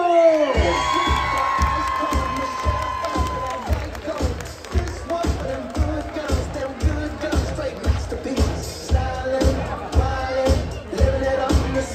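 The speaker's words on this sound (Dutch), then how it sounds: "Een applaus voor Shoeless Joe!" An audience at a youth showdance award ceremony claps and cheers, a loud rhythmic round of applause with whoops and shouting voices, steady throughout.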